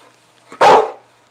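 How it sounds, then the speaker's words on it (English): A dog gives a single loud, close bark, one sharp burst that quickly fades, with no other sounds around it. "Stop with the barking. It's so loud."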